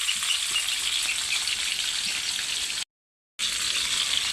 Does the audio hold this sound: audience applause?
no